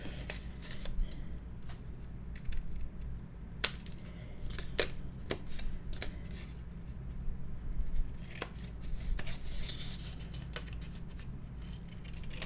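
Scissors trimming the corners of paper for a mini album, a scattered series of quiet, sharp snips close by over a low background hum, with no talk.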